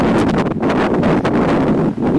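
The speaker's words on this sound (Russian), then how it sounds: "Но дует конкретно северный ветер холодный." A strong, cold north wind on a Southern Ural mountain trail, around 1268 m up, roars and buffets the microphone in loud, continuous gusts with no voices.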